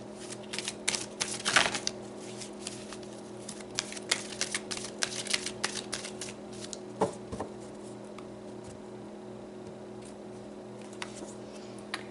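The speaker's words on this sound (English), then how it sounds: "So let's pull some more cards." Tarot cards are shuffled by hand during a reading, close quiet riffling and soft snapping bursts at irregular intervals, with a sharper flurry near the start and scattered taps afterward.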